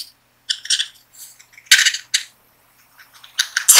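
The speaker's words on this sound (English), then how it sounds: "we're going to take our scissors and we're going to cut little strips, little lines into it" Scissors snip strips into a paper tube in a few quick, light cuts, close and crisp with brief pauses between them.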